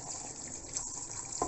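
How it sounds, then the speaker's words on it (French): Water poured over vegetables and chickpeas in a couscous pot makes a steady, fairly quiet running wash throughout, with a fuller splash near the end and no speech. "Maintenant, on va ajouter de l'eau."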